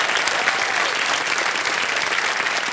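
A studio audience claps throughout, in the hall of the KBC Season 16 quiz show: dense, sustained applause of many hands, loud and even, with no voices rising above it.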